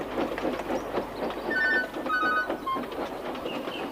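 A small steam engine named Toby chuffs along in a steady train of rhythmic puffs, while a bright bell rings a few clear repeated tones partway through, all fairly close.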